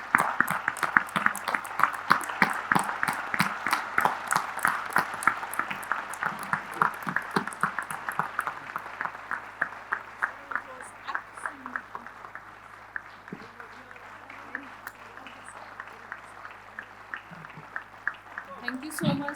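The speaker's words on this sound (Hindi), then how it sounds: "एक बार ताली बजा दो यार, खड़े होके मजा आएगा।" An audience at a career leadership session claps in a sustained round of applause that gradually thins into scattered single claps, with a voice speaking over it.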